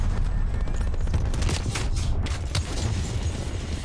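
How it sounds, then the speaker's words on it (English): Grenade explosions and gunfire in the shooter Black Ops Cold War: a dense, constant roar of battle with deep rumbling booms and repeated sharp cracks throughout, loud and close, no talking. "Another nade kill, come on guys."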